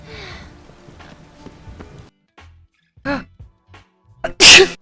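A woman sneezes loudly near the end after a few quieter breathy sounds and brief intakes, with some faint background noise earlier.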